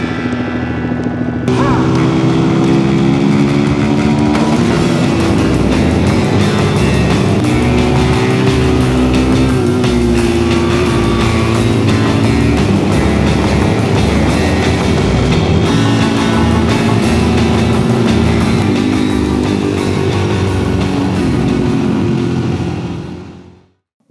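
A Suzuki DRZ motorcycle engine runs steadily after a valve clearance job, a loud, close, continuous idle that starts abruptly and holds before cutting off at the end.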